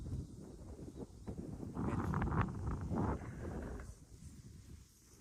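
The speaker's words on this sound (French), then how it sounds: "Le vent commence à se lever." Wind gusts buffet the microphone in open countryside, rumbling louder for a couple of seconds before easing back to a lighter rush.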